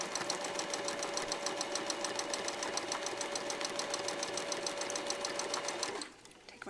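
A sewing machine runs steadily for about six seconds, its needle stitching a zigzag pattern on fabric with a fast, even mechanical clatter, then stops abruptly and leaves near quiet.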